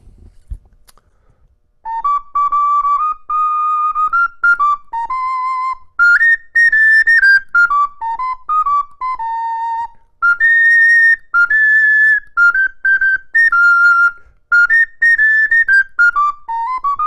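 A clear, pure-toned wooden ocarina plays a slow melody of held and stepping notes, close and alone with brief pauses between phrases.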